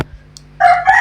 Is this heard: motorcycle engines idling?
no